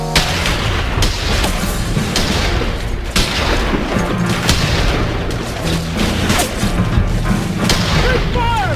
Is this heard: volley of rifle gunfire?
yes